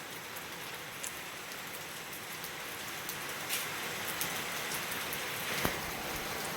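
Light rain falls steadily in a village, a soft even hiss of drops with a few slightly louder patters, continuous and fairly close with no voices.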